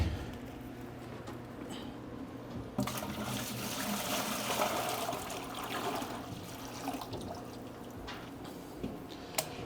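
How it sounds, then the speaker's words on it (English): Water draining out of a cartridge filter housing into a bucket, a steady trickling pour with scattered drips, growing fuller after the first few seconds and holding through the end, with no talk over it. "So we drain the water out of here into our fancy bucket."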